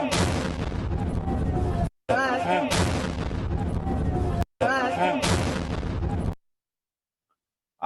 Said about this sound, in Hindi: इतना भयंकर धमाका था जो कि उस वक्त वहां पर हुआ है